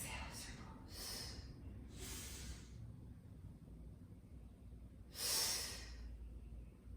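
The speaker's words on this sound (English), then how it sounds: "Inhale a circle. Exhale a circle." Soft, close breaths accompany a Pilates mat leg-circling exercise: several airy inhales and exhales come in irregular bursts over quiet room noise, one breath louder near the end.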